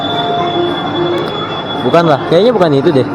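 A train arrives at a railway station in Indonesia, its wheels giving a steady, loud metallic squeal with a rumbling undertone that carries throughout, while people talk over it near the end.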